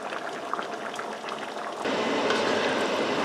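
Spaghetti and meat sauce simmering and thickening together in one skillet, giving a steady close bubbling and popping that grows denser and louder partway through, with no voices.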